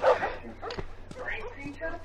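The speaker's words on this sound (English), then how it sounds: "So now, back to those dogs." Dogs bark and yip in The Last of Us video game, short sharp barks mixed with whimpers, heard beneath a voice talking over the game.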